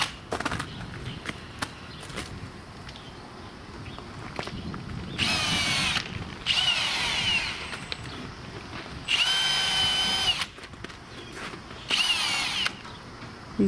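Bursts of a power drill whining into wooden roof rafters for screw holes, several separate runs of a few seconds each, with quieter handling and tapping between them.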